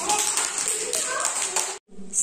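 Children clap their hands for a boy named Shivay during a counting and jumping rhyme game, a quick burst of close, scattered claps that cuts off abruptly, with young voices audible around it.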